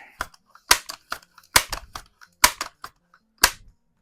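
Crosman Vapor Max air rifle firing pellets, a series of sharp close snapping cracks at irregular intervals, some quick doubles, with short quiet gaps between.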